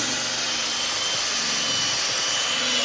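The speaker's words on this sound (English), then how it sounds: "And then you go over it with a hoover" A hoover runs steadily inside a Honda car during interior detailing, a loud continuous close-up whine and roar with no breaks and no voices.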